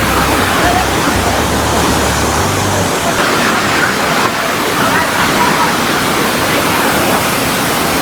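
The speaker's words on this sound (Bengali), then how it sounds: "এই তোপচাঁচির জল ছাড়ছে এই দিক দিয়ে" Water released from Topchanchi lake rushing in a steady, loud roar of broadband noise with no break, close by and outdoors, with faint voices in the crowd beneath it.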